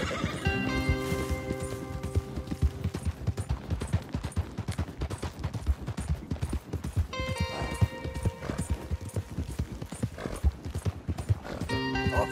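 Horse hooves clip-clop at a steady gallop in Red Dead Redemption 2, with whinnies and neighs breaking through, close and loud over a continuous music bed, with occasional voices.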